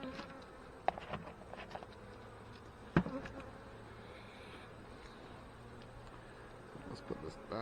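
Honey bees buzz softly in an opened hive during a fall inspection, a faint continuous drone with occasional knocks and clicks of handling equipment nearby.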